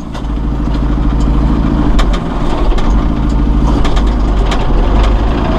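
A 2011 John Deere 5101E utility tractor engine idles steadily in high range first gear, a constant close, loud diesel rumble with faint metallic ticks and no talk.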